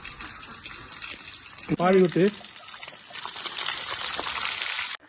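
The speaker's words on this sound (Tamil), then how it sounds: "நல்லா தண்ணியில் போட்டு அலசி கழுவி எடுக்கணும்" Items are washed and rinsed by hand in water, with continuous sloshing and gushing close by and a short burst of a voice partway through.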